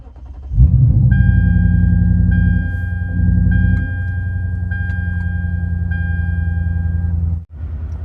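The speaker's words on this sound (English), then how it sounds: "Now I'm going to fire up the ISF" A modified Lexus IS F fires up with a sharp starter catch into a loud, deep rumbling idle that settles to a steady growl, close by, with a faint tonal chime repeating over it.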